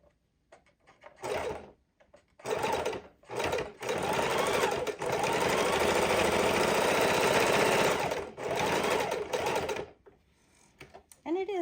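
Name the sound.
sewing machine sewing down a fidget quilt pocket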